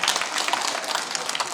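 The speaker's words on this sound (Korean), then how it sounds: "우리 박수로 축하하도록 하겠습니다." Church congregation applauding during a Sunday service to celebrate newborn babies, a steady wash of clapping from many hands filling the room for under two seconds with no speech over it.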